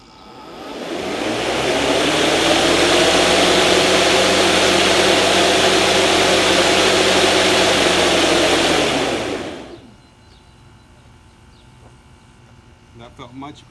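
A Greenworks 60V battery lawn mower fitted with cross blades spins up to a loud, steady, close whirring hum. It holds for several seconds, then winds down and stops, leaving faint background noise.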